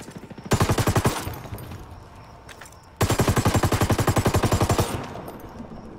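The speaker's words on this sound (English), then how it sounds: "Taking heavy fire here." Automatic weapon fire in Ghost Recon Wildlands Ghost War PvP: two loud, rapid sustained bursts, each about a second or two long, with echoing tails between them and no talk.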